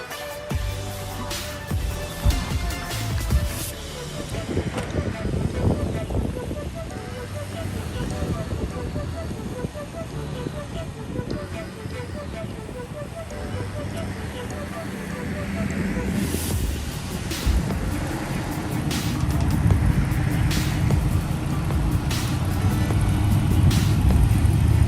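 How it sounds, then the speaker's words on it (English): A truck is pulled out of a hole during a snatch strap recovery off-road on Maui, its engine droning steadily at a distance with wind noise, the throttle rising toward the end. "That right there was your basic snatch strap recovery."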